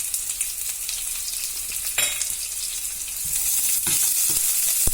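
Onion, green chili and curry leaves sizzle in a hot pan for flattened-rice upma, a dense continuous hiss with a few crackles. The frying grows slightly louder toward the end.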